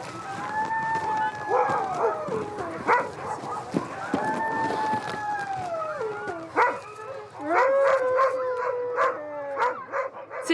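Sled dogs in a shared Arctic dog yard in Norway howl together, with long wavering howls overlapping short yips and barks in a close, loud, continuous chorus.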